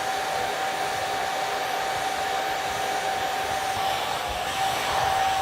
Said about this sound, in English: And the dryer too, you have to keep moving it.